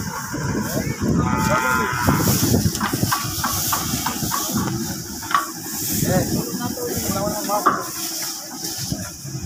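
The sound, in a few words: cattle mooing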